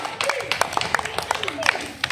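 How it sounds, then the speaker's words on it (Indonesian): Schoolchildren clapping their hands in a class exercise, scattered claps of uneven timing over a couple of seconds, with voices speaking over them. "Kita tepuk tangan lagi untuk kita semua."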